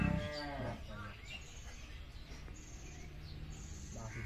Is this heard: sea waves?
no